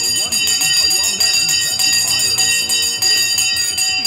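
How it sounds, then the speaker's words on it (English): A stock market opening bell rings loudly and steadily, a sustained metallic tone running over busy background noise with voices talking throughout. "The bell has gone."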